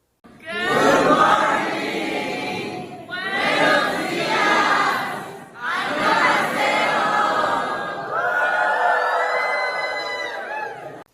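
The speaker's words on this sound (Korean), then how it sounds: "이들의 환호, 이들의 웃음소리가 우리들의 마음을 타치하지요?" Loud crowd of students in Mexico cheering, shouting and laughing together, a dense sustained roar of young voices with whoops rising and falling over several seconds.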